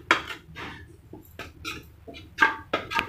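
Roasted daliya (cracked wheat) scraped and tipped from a pan onto a separate plate, giving a few scattered clinks and scrapes of utensil on metal, close and fairly quiet, with no talking.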